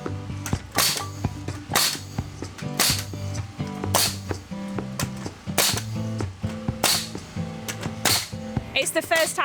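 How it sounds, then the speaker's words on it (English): A nail gun firing into the timber beams of a small wooden cabin: loud, sharp pneumatic cracks repeating roughly once a second, each with a clattering tail, with low voices faintly underneath. "It's the first time Ricky's used a nail gun before"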